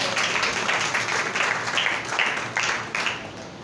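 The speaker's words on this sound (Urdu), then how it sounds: "زوردار تالیاں خدا کے لیے بجا رہے ہیں" A church congregation claps loudly in praise, a dense, continuous burst of applause with a few stronger swells, heard fairly close and with no clear speech above it.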